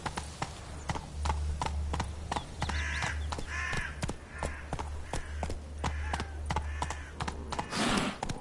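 Roach, a horse in The Witcher 3, gallops with a fast, regular clip-clop of hooves, close and crisp over a low ambient hum, while crows caw faintly in the background.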